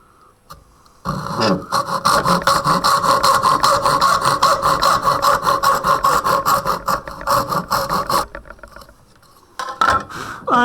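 A handsaw cuts a stopped housing joint in wood in fast, rhythmic back-and-forth strokes, loud and close, pausing briefly before a final few strokes.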